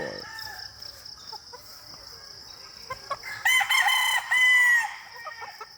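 Sweater gamefowl pullets on a game farm, giving soft clucks against a steady high background tone, then louder bursts of clucking and crowing-like calls. Close, with no talk.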